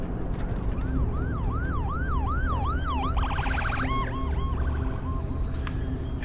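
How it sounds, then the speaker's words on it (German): An ambulance siren wails in the video game The Last of Us Part 1, a loud rising and falling two-tone sweep that switches to a faster yelp pattern over steady traffic rumble, no voices. "Krankenwagen."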